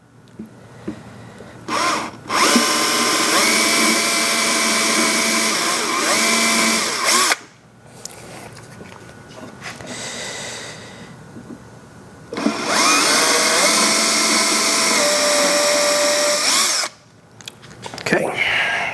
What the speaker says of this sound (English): I don't know if I should drill pilot holes here as well.